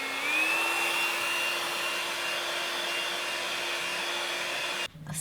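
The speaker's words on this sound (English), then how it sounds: "You can remove those hairy bits using a hairdryer, but don't make it too hot" A hairdryer blows steadily on poured acrylic paint at close range, a continuous whirring hum with a faint rising whine, cutting off abruptly near the end.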